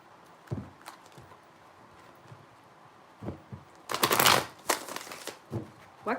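Tarot cards riffle and slap together in a few short shuffling bursts, louder toward the end, with light taps and handling noise between, no talk.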